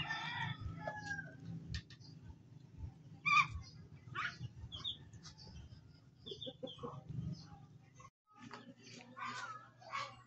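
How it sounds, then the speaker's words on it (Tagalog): Chicks and ducklings peep at a backyard where poultry is kept, with many high chirps scattered throughout, some clucking fowl nearby and a person talking at times. "Napay mga piso diri"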